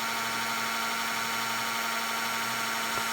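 A heat embossing tool blows a steady, close electric whir with a constant hum while melting white embossing powder on a handmade card.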